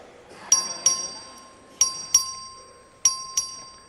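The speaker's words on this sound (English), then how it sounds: "Clerk, ring the bell." Voting bell rings in the Texas House chamber, six bright chimes in three pairs, each sharp strike ringing and decaying, clear and fairly close in a quiet room.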